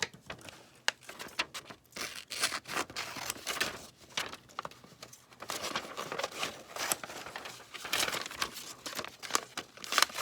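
Paper being cut for a Christmas card holder, with close, quiet snips and rustling crinkles in irregular bursts, alone without talk.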